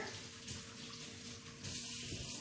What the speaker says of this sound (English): you're gonna take it and run it under hot water